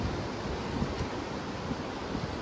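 Ocean surf at Daytona Beach makes a steady broadband wash of breaking waves, loud and continuous with some wind rumble and no voices.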